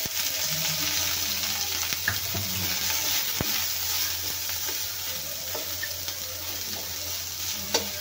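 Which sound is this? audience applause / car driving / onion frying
onion frying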